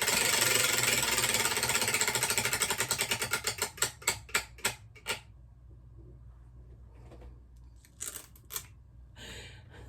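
A reading-challenge prize wheel spun by hand, a rapid ratcheting click that starts as a dense buzz and slows into separate ticks before stopping, followed by a few faint handling clicks.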